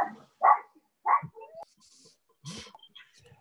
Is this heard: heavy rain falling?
no